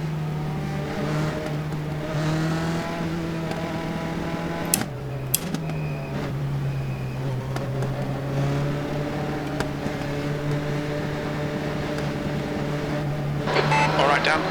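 USF2000 race car engines in iRacing at Tsukuba drone steadily through a rolling start behind the safety car. The hum is fairly loud and sustained, dips briefly with a few sharp clicks, then builds again with revving, while someone talks over it.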